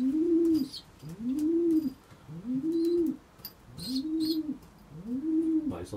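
Young racing pigeons in a loft give a steady series of five rhythmic, close coos, each rising and falling, with faint chirps and rustling in the background.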